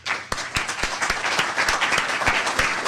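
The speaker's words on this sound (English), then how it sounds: "Can we give Eric Steele a round of applause, please?" Audience applause at a Plone software conference talk, a steady burst of many hands clapping throughout, fairly close and full, with no speech over it.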